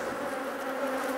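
Honey bees swarm around open Langstroth hives during an inspection, a dense, steady buzzing drone filling the air without pause, close and continuous.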